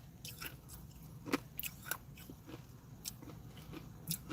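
Faint, scattered crunches as small candy pieces in a Taco Bell Watermelon Freeze frozen drink are bitten and chewed, several soft crisp bites spread over a few seconds, close and quiet.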